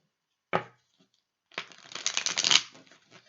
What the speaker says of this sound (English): A couple more shuffles just to make sure.